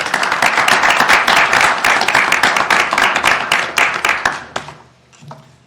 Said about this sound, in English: I was wondering if I started the applause